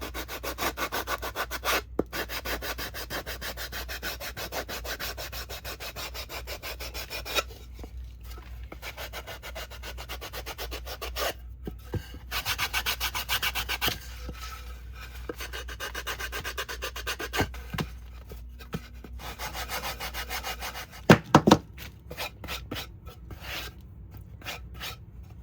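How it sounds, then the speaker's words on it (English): A finger sander distresses painted wooden edges with a close, steady abrasive rasping buzz that pauses briefly several times, ending with a few sharp knocks. "I'm going to take my finger sander and I am going to go around and I am going to distress"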